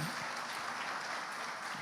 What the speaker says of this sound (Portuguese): Só os que creem aplaudam bem forte ao Messias.